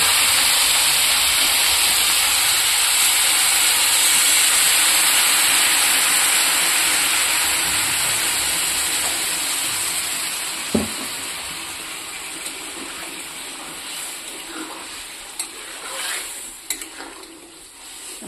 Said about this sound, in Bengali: এখানে আমি অল্প গরম জল দিয়ে দেবো।